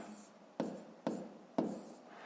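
Quiet strokes of a pen or pencil writing numbers by hand into a table for a fifth-grade maths exercise, three distinct scratchy marks spaced about half a second apart in a near, calm room.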